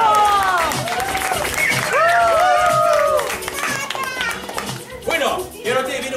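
Children and adults at a magic show clap and cheer loudly, with high excited kids' voices and shouts mixed into the applause as it gradually thins out.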